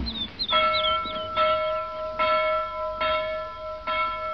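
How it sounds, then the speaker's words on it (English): A town hall bell rings out in slow, evenly spaced strokes, each clang sustaining a bright tone that hangs and overlaps the next, with a few high bird calls at the start; no talking. "Who pulls the town hall bell rope at blind, Captain Cat?"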